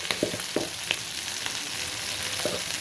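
Chicken frying in a pan with chili powder on low heat, a continuous close sizzle broken by several light scraping taps from stirring.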